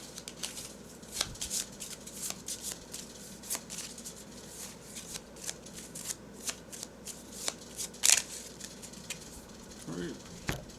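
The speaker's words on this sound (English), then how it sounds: "These 3 get shuffled in." Marvel Champions cards are shuffled into a deck on a tabletop, a run of quick riffling bursts with brief pauses, close and fairly quiet, with a sharper clack near the end.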